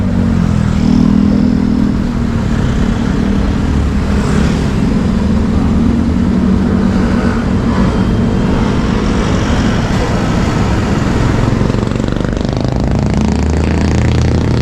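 Motorcycle engines rev and run loudly and continuously for about fifteen seconds, a dense, close mechanical roar with rattling on a road trip through Calaca.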